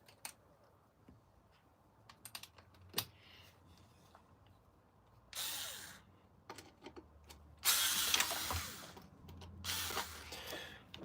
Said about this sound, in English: Let's take all the screws out for the electrics.